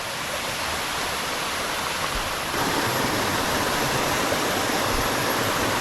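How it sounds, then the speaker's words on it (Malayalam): Kombazha Waterfalls roar as a dense, continuous rush of falling water, loud and near, with no other sounds breaking through. "അപ്പോൾ അത് ഇതാട്ടോ വെള്ളച്ചാട്ടം."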